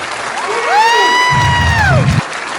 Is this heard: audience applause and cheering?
yes